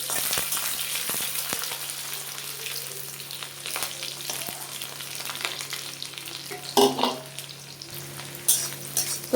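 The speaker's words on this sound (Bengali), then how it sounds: "পেঁয়াজ কাঁচা লঙ্কা দিয়ে দিলাম তেলে" Sliced onion and green chili fry in oil after a nigella seed tempering, a soft constant sizzle with scattered stirring scrapes and a louder crackling burst near the end.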